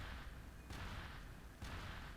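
Fireworks in Second Life, two soft distant booms about a second apart over a faint steady ambience.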